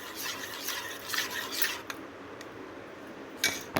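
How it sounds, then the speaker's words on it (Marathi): A spoon stirs a raw mango drink spiced with cardamom powder and salt, giving light metallic scrapes and clinks against the container in short bursts, quiet and with no voices. "आपण हे सगळं मिक्स करून घेऊया"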